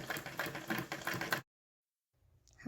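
A sewing machine stitches in a circle around a round piece of blouse fabric, running in a steady, fast mechanical patter for over a second before it stops abruptly, leaving near silence and a faint rustle afterward.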